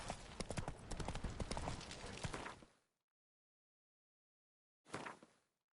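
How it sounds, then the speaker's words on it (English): In The Witcher 3 video game, a horse's hooves clatter in quick clip-clop steps for nearly three seconds and fade to silence. A shorter burst of hoofbeats follows a couple of seconds later. "Whoa there, Roach"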